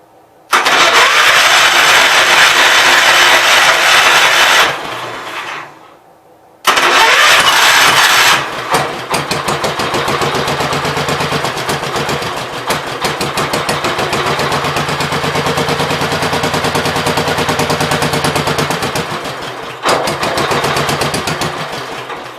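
A Gravely 810 tractor engine cranks loudly in a long burst, cuts out briefly, then fires again and settles into a rough, steady, close running roar with sharp irregular pops.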